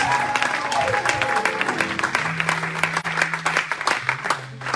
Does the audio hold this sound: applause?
yes